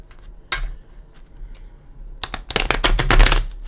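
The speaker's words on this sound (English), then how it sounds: "Give them a couple shuffles." Tarot cards being shuffled by hand, a soft riffle at first, then a dense, loud burst of rapid papery flicking and slapping in the last second and a half, close up with no talk.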